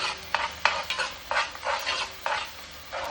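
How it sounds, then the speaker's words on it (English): Red curry paste for beef curry sizzles and crackles in a hot pan, with repeated bursts of stirring scrapes at an irregular rhythm, close and moderately loud. "we'll just let that sizzle away on this side for a minute"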